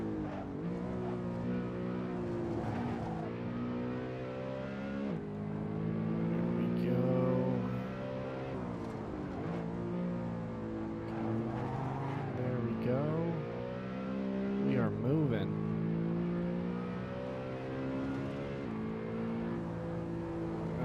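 BMW E92 M3 driven flat out on a hot lap of the Nürburgring, its engine howling continuously with rising and falling revs through gear changes and braking, loud and close throughout.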